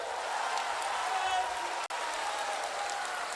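A large crowd at a political rally applauds steadily. The clapping is sustained and even, with speech over it.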